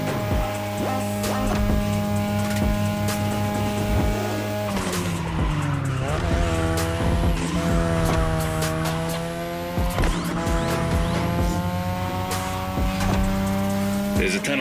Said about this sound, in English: your ride is a third-gen 2002 Mazda RX-7. Lightweight, compact, a sick rotary engine